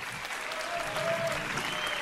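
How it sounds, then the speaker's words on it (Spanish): Applause from a rap battle audience, a steady wash of clapping at moderate distance that fills the short moment without a break. "Aplausos"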